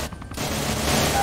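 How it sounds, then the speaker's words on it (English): Rapid bursts of gunfire in a video game, loud and continuous, with a brief lull near the start before the shooting fills the rest. "This is what you call gunfire."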